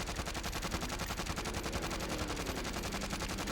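Rapid automatic gunfire on a firing range in Call of Duty Warzone, a dense, steady stream of shots running loud and unbroken for the whole stretch.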